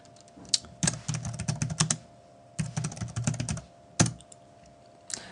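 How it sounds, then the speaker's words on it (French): Fingers type on a computer keyboard in quick bursts of clicky keystrokes, with short pauses between runs, close and clear with no talking. "pour ajouter une nouvelle, vous devez taper un titre"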